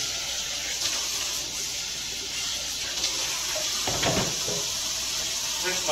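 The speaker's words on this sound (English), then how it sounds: "Rinse my fingers so I can get a grip on things" Tap water runs steadily into a sink while fingers are rinsed under it in a kitchen making old-fashioned glazed donuts, a continuous close hiss with a brief splashier burst near the end.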